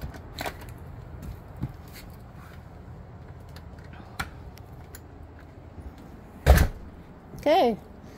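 A residential garage door is shut and locked during a garage inspection. Two heavy, close clunks land near the end, the second a bit longer, after quieter handling noises and soft rattles.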